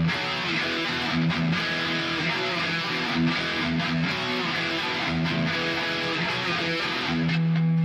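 Distorted electric guitar riff, played twice back to back, with chugging palm mutes on the low open sixth string; steady, loud and close, with no voice over it.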